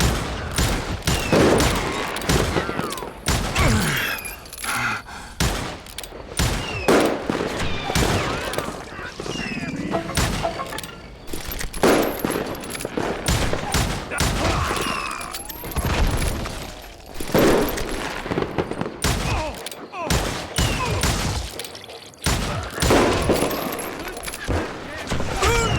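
Rapid, loud bursts of gunfire from the Western shooter Call of Juarez: Gunslinger crackle almost nonstop, with shots stacked into volleys and brief gaps, under occasional voices.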